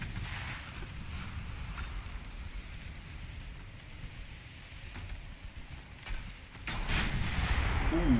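Naval 9-inch gun fire during a battle in Ultimate Admiral Dreadnoughts, distant booming shots over a low rumbling sea ambience, with a heavier, louder blast swelling toward the end.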